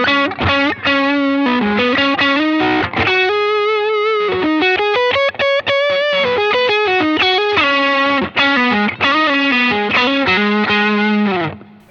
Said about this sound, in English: The super overdrive is really, it's a lead tone on top of the other drive pedals.